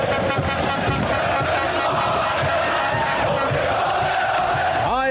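A large football stadium crowd roars and cheers continuously, loud and dense, with chanting voices blending into a sustained wash of sound within a radio advertisement.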